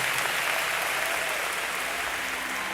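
Congregation applause fills a church during a testimony service, a steady dense wash of clapping that holds evenly throughout with no voices on top.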